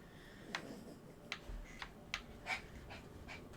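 Dogs bought from a vendor in the fantasy game King's Bounty II pant in short breathy bursts, several quick puffs spaced across a few seconds at close range with no talking.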